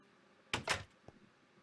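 An iron door in Minecraft swinging open, two quick close clunking bursts followed by a faint small click, alone against near silence.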